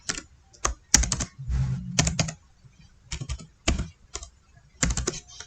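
Keys clack on a computer keyboard as code is typed, coming in quick bursts with short pauses in between, close and clear with no talk.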